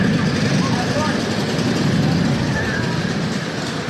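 LO206 kart engines idling together on the grid before a race at a karting event, a dense, steady, loud rumble with a voice talking over it.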